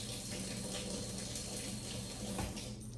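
Kitchen tap running to rinse flour off a whisk, a steady close hiss of splashing water into a sink that continues without pause.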